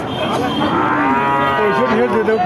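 A cow at a cattle market gives a loud, close, drawn-out moo that fills the whole moment, with no talk over it.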